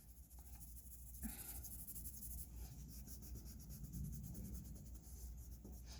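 Pencil shading on paper for a realistic eye drawing makes soft, faint scratching and rubbing strokes that continue steadily and quietly throughout.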